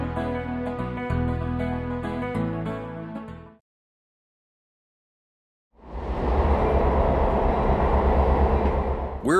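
Steam-era passenger train setting off from Duluth toward Two Harbors, Minnesota, with loud rumbling rail noise swelling up close. A steady, tonal stretch comes first, then a gap of silence.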